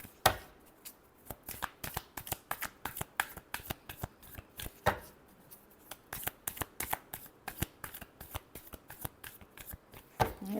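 Tarot cards being shuffled by hand, a quiet, close run of crisp riffling snaps and slaps that repeat in an irregular rhythm.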